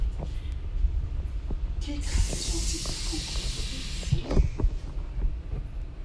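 Water poured into a hot pan while cooking rice hisses in a steady, moderately quiet burst of a couple of seconds, set against low kitchen rumble and faint clatter.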